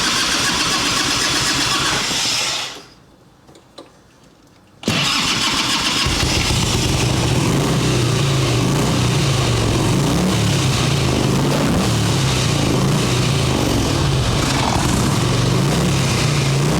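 A 1989 Harley-Davidson Ultra Classic Tour Glide bagger with a faulty accelerator pump, running on choke, roars loudly and close, drops out briefly, then restarts and keeps running with a rough, throbbing engine note to the end.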